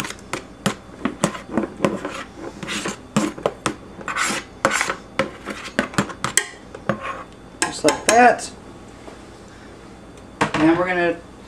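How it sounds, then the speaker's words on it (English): Utensil clatters and scrapes as roasted vegetables and spices are stirred together in a pan over high heat for baingan bharta, a steady series of close, sharp knocks with a voice speaking briefly near the end. "stir everything together, get all the spices mixed in with the rest"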